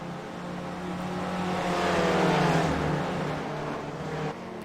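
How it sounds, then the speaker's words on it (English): Spec Racer Ford cars race at Charlotte in a sim racing game, engines droning and swelling to a loud pass before easing off, with several cars overlapping in a continuous roar. "Ron Wallace, the lap car, is doing the right thing and letting the leaders through"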